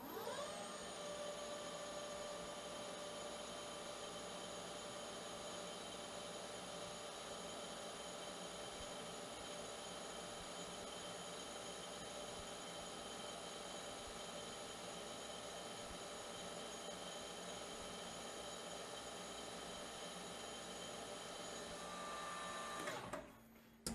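A spot drill bores into a workpiece on a lathe in a carriage drilling setup, giving a steady whining, tonal machining drone at close range that holds evenly throughout and then cuts off abruptly at the very end.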